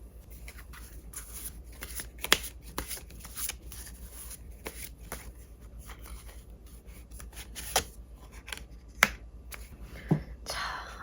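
Tarot cards are shuffled by hand in soft, repeated riffles and slaps, with a few sharper snaps standing out over a quiet room.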